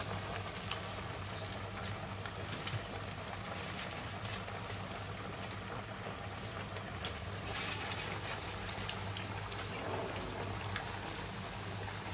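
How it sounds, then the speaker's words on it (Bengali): Coral fish cutlets deep-fry submerged in plenty of hot oil, a constant dense bubbling sizzle at moderate level with a low steady hum beneath. "একদম ডুবা তেলে ভাজতে হবে বন্ধুরা, না হলে জিনিসটা ভালো হবে না।"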